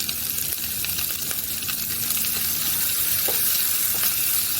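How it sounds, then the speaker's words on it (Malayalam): Onions sizzle steadily in a hot pan with a little salt, with occasional stirring scrapes and clicks over a constant frying hiss, close up. "ഉള്ളി ഒന്ന് വഴണ്ട് വരട്ടെ."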